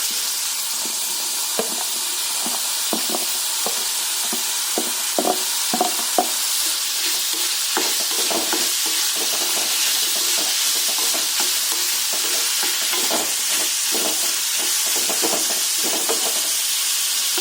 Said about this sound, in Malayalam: അത് കഴിഞ്ഞിട്ട് നമുക്ക് അതിലേക്ക് ഈ പയറും കൂടെ ഇട്ട് കൊടുക്കാം.